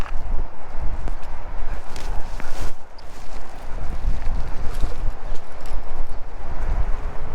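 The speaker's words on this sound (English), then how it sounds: "It's very windy." Strong wind buffets the microphone while riding an electric scooter outdoors, a constant loud rushing roar with gusty surges and bumps, no talking.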